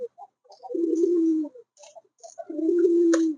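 Fancy pigeons on a pigeon farm coo close by, in low rolling phrases of two long throaty bursts with softer short notes between them.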